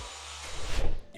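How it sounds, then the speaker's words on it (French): A vacuum cleaner runs close by with a steady broadband roar that swells and rubs briefly near the end, then cuts off abruptly. "est-ce que Rodrigue vous a dit qu'il passait à l'aspirateur?"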